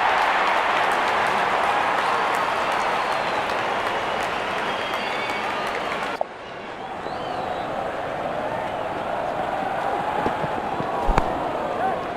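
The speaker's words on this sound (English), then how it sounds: "Openers walking in and the crowd cheering in anticipation." Stadium crowd cheering in the cricket video game Real Cricket 22, a dense, continuous roar that dips abruptly midway and then carries on slightly quieter, with a couple of sharp knocks near the end.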